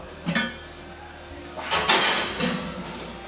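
A cast-iron pot set into a cold oven while baking sourdough bread: a brief metallic clank, then a louder scraping slide and clatter of metal on the oven rack, with a soft knock afterward.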